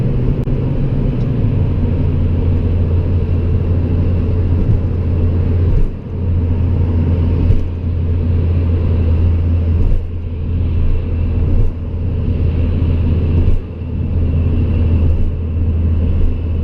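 A car on a road during a driving lesson, another vehicle trying to pass: steady low engine and road rumble throughout, close and loud, with a few brief dips in the drone.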